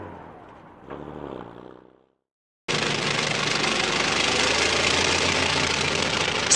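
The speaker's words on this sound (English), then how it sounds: "Military engineering vehicle." The engine of a military engineering vehicle runs loud and steady after a brief silence, a dense continuous roar with heavy rumble, preceded by a short spoken announcement.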